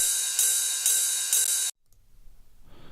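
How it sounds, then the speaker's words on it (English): A bright, shimmering ride cymbal rings steadily with four evenly spaced accents, then cuts off abruptly, leaving near silence. "I think this is a ride."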